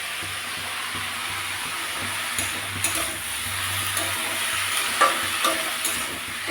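Shrimp crackle and hiss in a hot pan for a jackfruit-seed chorchori, a loud, constant close-up sizzle broken by a few sharper spatula scrapes and pops.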